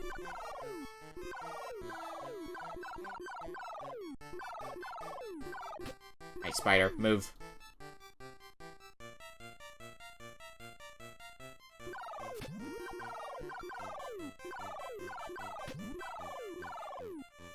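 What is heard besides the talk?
birds in the NES video game Dr. Jekyll and Mr. Hyde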